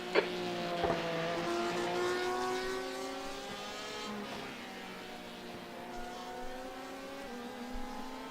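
Race cars lapping the Nürburgring in a racing video game, several engines droning and rising in pitch through gear changes, a steady layered roar with occasional clicks and bumps, no talk.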